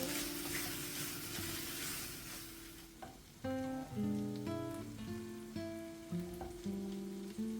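A pan with pepper powder, soy sauce and green chili sauce sizzles steadily and loudly, like a hiss of rain, for a few seconds. Then a run of tonal, musical-sounding notes enters over the quieter frying.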